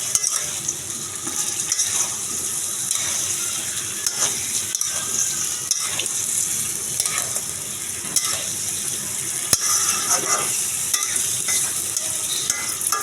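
Cut cucumber tossed into a spice paste frying in a pan for tilapia curry, a steady close sizzle broken by repeated scraping stirs and one sharp clink of the spoon.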